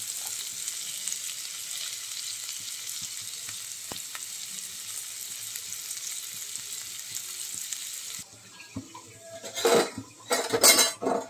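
Onion frying in a little oil in a pan for a mixed vegetable dish: a steady soft sizzle gives way to louder clinks and scrapes of a utensil stirring against the pan near the end.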